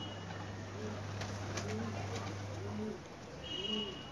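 Pigeons cooing in a pigeon-training setting, several soft, low repeated coos close by over a steady background hum.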